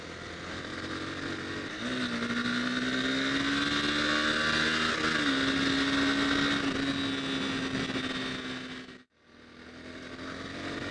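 A 2011 Honda CBR250R engine heard while riding on a rough road, a steady droning hum with a slight rise in pitch as the bike accelerates, under wind noise, with a brief dropout near the end.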